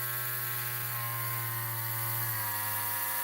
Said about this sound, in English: We're gonna drill a hole straight through.